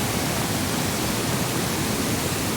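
Floodwater from a swollen Konkan river surges steadily nearby, a heavy, continuous roaring wash that fills the whole stretch without any talk.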